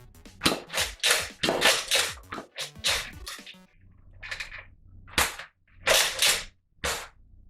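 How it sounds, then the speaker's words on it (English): Nerf Modulus Longstrike blaster shooting darts fed from a banana magazine: a rapid run of sharp, close popping shots in uneven bursts, several quick pairs and clusters with short pauses between, loud and alone with no talk. "I'm going to try and fire it using the banana mag as a base."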